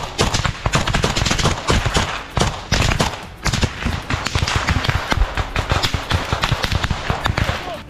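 A front-line firefight at the Bakhmut canal, with a Ukrainian squad trading fire with Russian positions: loud, close gunshots crack out in rapid bursts and rattling automatic strings, overlapping with brief gaps throughout.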